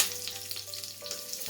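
Fenugreek seeds and two green chillies fry in hot oil with a soft, close sizzle and light crackling over a brief moment, quiet overall, no talking.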